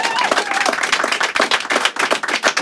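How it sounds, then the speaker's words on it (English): Studio audience on a live TV music show claps in a warm round of applause, dense and steady with individual claps standing out, filling the whole stretch. "Let's give another warm round of applause"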